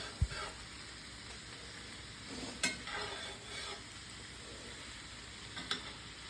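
Cabbage and bacon frying in bacon grease in a pan, a soft continuous sizzle broken by a few sharp stirring knocks and scrapes, with no talk.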